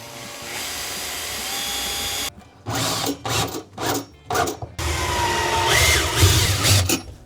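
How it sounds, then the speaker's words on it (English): Power drill driving screws into a kitchen cabinet during installation: a steady whine, then several short separated bursts of motor and clatter, then another long continuous run, all loud and close. "Now we just need to screw this into the cabinet"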